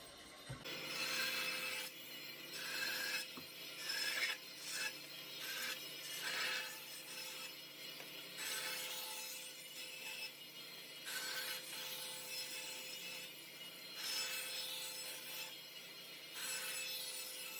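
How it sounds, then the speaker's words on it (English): A bandsaw trims excess wood from a wooden spoon blank, its motor humming softly while short rasping cutting bursts come and go at irregular intervals, fairly quiet and close. "Off a bit of the excess with the bandsaw."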